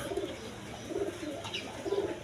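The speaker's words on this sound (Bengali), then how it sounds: "এখানে এক পেয়ার বোম্বাই কবুতর আছে ইন্ডিয়ান বোম্বাই দেখেন কোয়ালিটি সম্পন্ন কবুতর" A pair of Indian Bombay pigeons coo softly nearby, three low, rolling coos spaced about a second apart over quiet background hiss.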